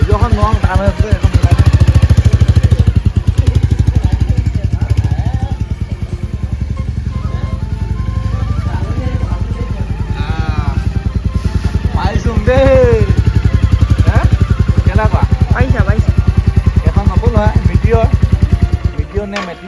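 Rumbling low and continuous, a new motorcycle's engine runs throughout a ride while a person talks over it at length; the engine dips slightly midway, then holds steady until it cuts off near the end.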